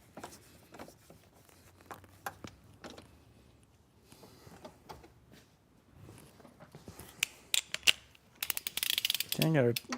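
A torque wrench ratchets while a swivel seat is installed in a van, scattered clicks and mechanical clatter building to a loud, rapid burst of ratcheting near the end, with some talk in the background.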